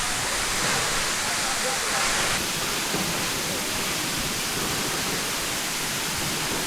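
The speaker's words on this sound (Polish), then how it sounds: "Trzeci wodospad dnia" A waterfall in West Sumatra roars continuously, a dense, steady rush of falling water close by, with no pauses.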